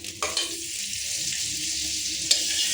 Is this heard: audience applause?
no